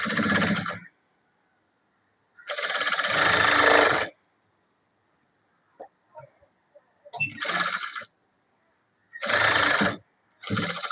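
Sewing machine double-stitching a blouse seam: loud, close bursts of stitching, each lasting one to two seconds, separated by silences with faint clicks and handling noises.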